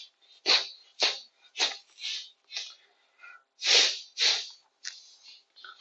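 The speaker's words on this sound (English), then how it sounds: "I'm trying to get some sneezing." A series of about ten sharp, breathy sneeze-like bursts, close and distinct, spaced roughly half a second apart with quiet between them.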